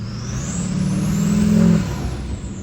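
A Duramax diesel pickup truck revs up close by, its low engine drone swelling to a peak and then dropping back to a steady rumble.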